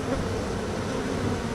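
A dense, steady buzz from a wild honeybee colony on school property fills the air continuously and loudly, close by, with no voices.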